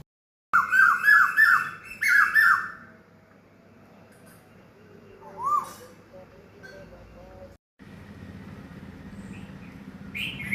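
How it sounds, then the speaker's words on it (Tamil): Peacocks call in the evening with a loud series of sharp, rising squawks in quick succession at the start. A single fainter call follows later over quiet outdoor background noise. "இறை தேடும் மயில்கள் நீல நிற கழுத்து உடையவை ஆண் மயில்கள்"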